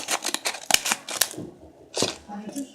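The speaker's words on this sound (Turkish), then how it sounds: "Hemen açalım o zaman. Makasımızla." Scissors snip open a plastic Minis blind bag toy package, giving a quick run of sharp, close clicks and cuts with a voice nearby.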